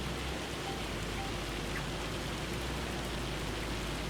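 Steady, dense patter of hail falling outdoors in Arkansas, a continuous even hiss of many small impacts with no pauses, moderately loud and close, with no voices over it.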